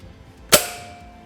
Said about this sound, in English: it almost sounds like a gunshot. But this is what the camera is. It's called the K20 and it was used in 1945.